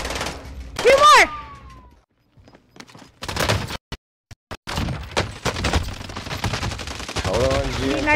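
Video game shotgun blasts crack out in heavy, booming bursts, separated by brief silences and a few isolated shots, with a voice briefly heard amid the chaotic firefight.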